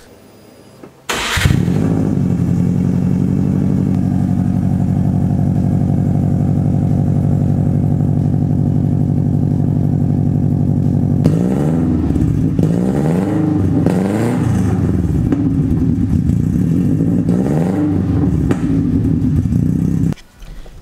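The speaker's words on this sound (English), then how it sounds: "let's do a cold start." A Subaru WRX with an Invidia N1 exhaust cold-starting: a quick crank catches into a loud, steady, deep idle that runs for many seconds, then a few throttle blips rise and fall before it cuts off abruptly.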